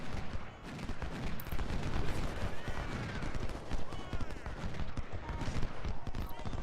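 Dense crackling musket volleys and scattered shots roll continuously through an Ultimate General: Civil War battle at First Bull Run, loud and busy with overlapping bursts and no pauses.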